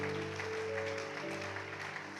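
A church congregation at a worship service applauding and acclaiming the Lord, a continuous wash of clapping and voices filling the room for a couple of seconds.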